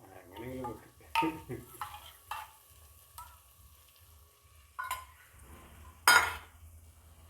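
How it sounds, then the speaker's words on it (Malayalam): Tuna fish curry gets stirred in a pan with a spoon: several sharp scrapes and metallic clinks come at irregular intervals over a faint, low sizzle in a quiet kitchen. "ഇനി നന്നായിട്ട് ഇളക്കുക"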